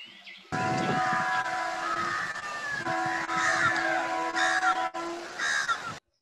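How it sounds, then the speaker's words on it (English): A train passes with a steady rumble and sustained horn-like tones, loud and close, running for several seconds before cutting off abruptly. "it's a train sound"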